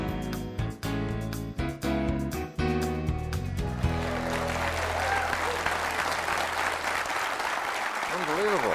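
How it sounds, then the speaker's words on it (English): A crowd at a weekend seminar breaks into sustained applause welcoming the speaker, a broad steady roar of clapping that rises in over the closing notes of intro music and continues alone. "Appreciate that fabulous welcome and all that applause"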